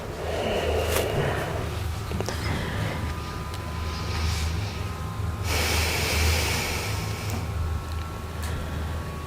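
Slow, steady breathing during a morning yoga stretch, close and soft, with long inhales and exhales under a faint low background hum and no talking.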